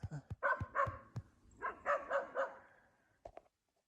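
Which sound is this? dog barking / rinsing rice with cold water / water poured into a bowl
dog barking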